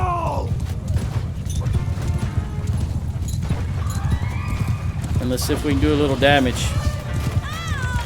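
Cavalry horses charge in Mount & Blade II Bannerlord, with steady galloping hoofbeats and a brief whinny amid battle clatter. Someone talks over the din throughout.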